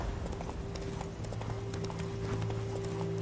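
Horse hooves pound steadily as a rider gallops in The Witcher 3 video game, a continuous rhythmic clip-clop that is fairly faint under a low game hum.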